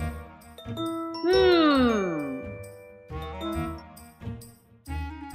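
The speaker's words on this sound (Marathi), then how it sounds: "अगो फोन वाजता, उचल" A phone rings in a Marathi television serial scene, playing a bright tinkling melodic ringtone with sweeping bell-like notes and repeated chimes, close and loud, with no voices.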